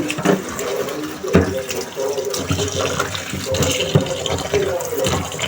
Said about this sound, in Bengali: এদিকে তরকারি তরকারিগুলো ধুয়ে নিচ্ছি